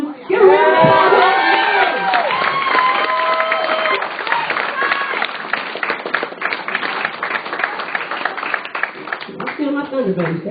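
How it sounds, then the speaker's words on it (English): Comedy show crowd cheering and whooping, then settling into sustained clapping, loud and near, with shouted voices at the start and a voice returning at the end. "Give a round of applause."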